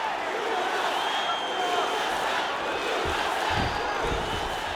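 Arena crowd in the UFC 4 video game, during a Jon Jones vs Francis Ngannou bout, roars steadily throughout, with a few dull thumps near the end.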